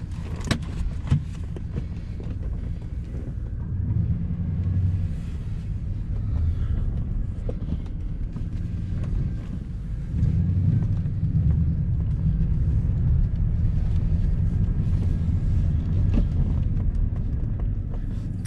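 Interior of a 2004 Pontiac GTO with an LS1 V8 and six-speed manual, driven on a road in Pennsylvania: a steady low engine and road rumble runs throughout, growing slightly louder in the second half, with a few faint knocks and no talk.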